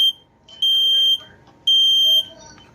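Kidde 0918 photoelectric smoke alarm sounding loud, piercing electronic beeps up close, two long sustained tones separated by a pause, with faint background chatter between them.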